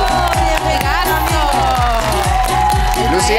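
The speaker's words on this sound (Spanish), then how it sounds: "Un fuerte aplauso para él" A TV show studio audience claps and cheers for a guest over a pounding, rhythmic music beat, the applause loud and dense under the music.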